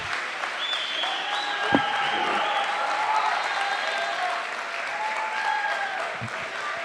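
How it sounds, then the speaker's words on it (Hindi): An audience at an annual mushaira poetry gathering at a medical college in Gujranwala keeps up sustained applause from many hands. A few faint voices carry over the steady clapping. "भरपूर तालियां सर"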